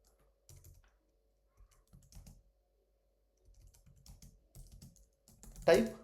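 Typing on a computer keyboard: scattered clusters of soft key clicks with quiet pauses between them, ending in a louder, denser burst of keystrokes.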